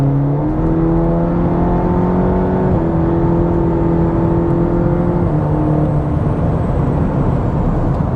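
A 2023 Cadillac CT4-V sports sedan accelerating hard on the road, its engine note climbing through rising harmonics, with one brief dip at an upshift before it pulls again, loud and close with steady road and wind noise beneath.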